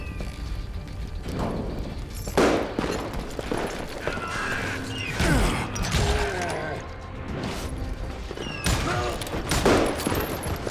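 Gunfire in the Western shooter Call of Juarez Gunslinger: a dense, continuous fusillade of shots with mechanical clatter, crashes and creaks, loud and sustained throughout with bursts peaking near the start and end.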